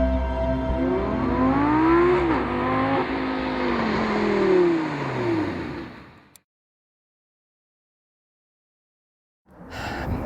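A Lamborghini Gallardo LP560-4 Spyder's engine revs loudly and close by for about six seconds, its pitch climbing and falling in several sweeps. Then it cuts off into silence, and a faint noise returns near the end.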